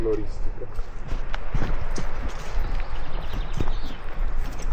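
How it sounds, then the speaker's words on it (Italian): A horse's hooves clip-clop with irregular steps on a Dolomites mountain trail near the Comelle waterfalls, fairly close and mixed with hikers talking over them. "Ecco il cavallo."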